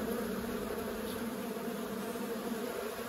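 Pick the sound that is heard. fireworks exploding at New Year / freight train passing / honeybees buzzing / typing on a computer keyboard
honeybees buzzing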